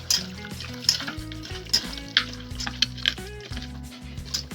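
Chicken curry masala frying in coconut oil in a pan, a steady close sizzle broken by stirring scrapes and soft clinks of a utensil, with no talk.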